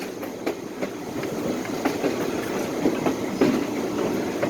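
A train on the Osceola & St. Croix Valley Railroad rolls by close at hand, its wheels giving a rhythmic clickety-clack over the rails beneath a steady rumble.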